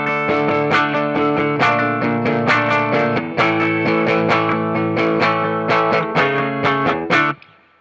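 A 2018 Gibson ES-235 '34 Burst electric guitar played through its bridge pickup rings out in loud, distorted strummed chords colored by modulation and reverb effects, ending with a quick cutoff.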